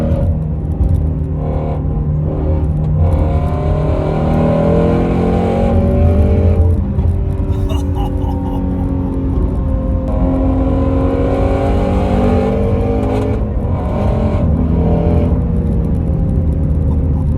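Stock naturally aspirated V8 with a flat-plane crankshaft revs hard and close, its harmonics climbing and falling through repeated throttle blips and sustained high-rpm pulls with no talk over it.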